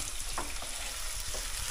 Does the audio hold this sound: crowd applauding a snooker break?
no